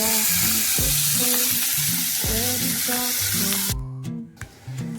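Chopped onions and tomatoes frying in hot oil with cumin seeds, a steady close sizzle with stirring clatter throughout that briefly quiets near the end.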